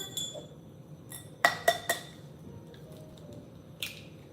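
Eggs cracked against a bowl edge for matzo balls in a home kitchen: a cluster of three sharp clicks and taps, then a lighter clink later, over quiet room hiss.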